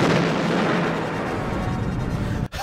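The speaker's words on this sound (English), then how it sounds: "so many people have died and exploded in a blazing fire" Loud, dense explosions and a roaring blaze from a destruction scene in the 1985 film Brazil, sustained rumbling bursts filling the clip before a brief dropout near the end.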